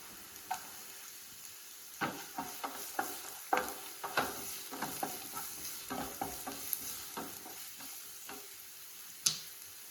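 Ginger, green chili and garlic sautéing in a pan for a vegetable kurma, a soft steady sizzle broken by repeated sharp scraping and stirring clicks from a utensil, close and without talk.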